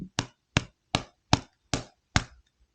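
Seven sharp, evenly spaced hammer strikes hit a Leatherman Arc multitool to knock a tool loose, each a crisp close knock with a quick decay and no talk.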